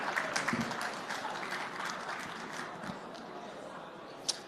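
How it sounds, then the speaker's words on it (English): Expo-hall audience applause at a Dubai trading event, a soft even spread of clapping heard from a distance and lasting several seconds, ending in a single sharp knock. "Round of applause, please."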